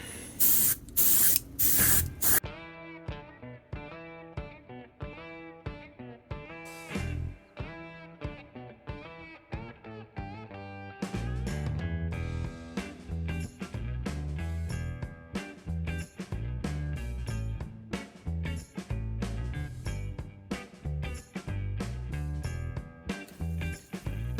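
Vallejo flat earth paint sprays onto a 1962 Aurora Wolfman model kit in a string of short airbrush bursts, each a close, sharp hiss, stopping and starting irregularly, with no talking.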